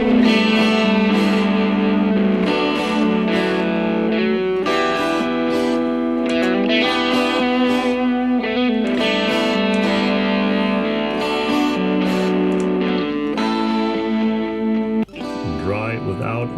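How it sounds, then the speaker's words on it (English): A music track plays loud and continuous with reverb and delay effects added in Cubase, its sustained tones trailing into echoes and ending in a brief washed-out tail. "now we're going to bring in the whole reverb and delay setup"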